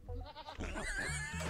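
Goats in the game Rimworld bleat in several quick, close, nasal calls, one after another over a brief stretch.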